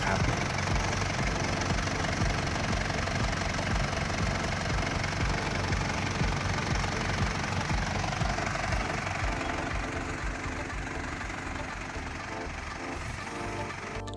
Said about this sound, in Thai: เครื่องก็เดินเรียบเดินนิ่งมากๆนะครับเครื่องไม่สั่นไม่สะดุด